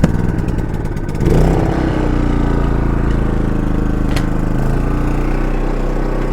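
A small four-stroke petrol engine on a 3300 W inverter generator runs steadily at close range, rising slightly in pitch after a second and then holding an even drone.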